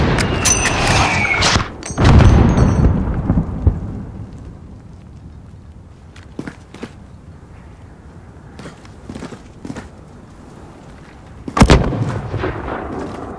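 Mortar fire in Call of Duty Modern Warfare: a heavy nearby blast and booming impact at the start, then sparse distant thuds, cracks of gunfire, and another loud explosion near the end.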